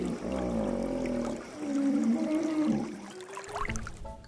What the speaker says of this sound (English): Do you know what sound a hippo makes?